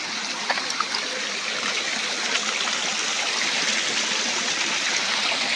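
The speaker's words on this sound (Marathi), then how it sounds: "खाली इथून आपला धबधबा पडतो खाली. पाण्याचा आवाज एकदम खुळखुळ येतो." Continuous rushing and splashing of a waterfall dropping below a hillside fort in the Konkan, a dense, even wash of water sound heard up close with no one speaking.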